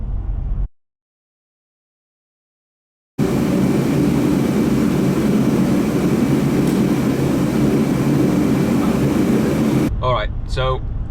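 Loud, steady roaring blast of a canister-type space heater running in a garage, broad and continuous after a brief silence, with a voice faintly over it at the end.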